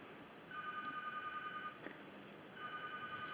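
A phone rings in a quiet room during work on a 1:72 scale DeAgostini model of a Chausson APH 520 bus, sounding as a steady electronic tone in two short bursts separated by a pause.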